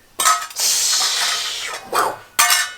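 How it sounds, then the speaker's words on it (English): Dishes are washed at a kitchen sink, with loud bursts of running water and a few light clinks of dishware close by, broken by short pauses. "Are you washing the dishes?"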